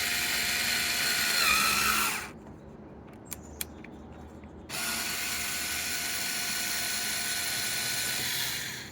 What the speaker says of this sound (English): This is probably not the right drill for this.